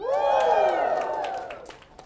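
An audience cheers loudly together in a big hall, a swelling mass of voices and whoops that slowly fades over a couple of seconds.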